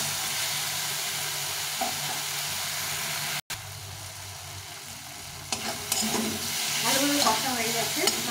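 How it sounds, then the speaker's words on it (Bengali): Tomato sautéing in a pan with cumin powder, a little chili powder and a splash of water makes a soft, continuous sizzle, with a brief dropout midway and scraping stirs growing busier toward the end. "ভালোভাবে কষা হয়ে গেছে টমেটোটা"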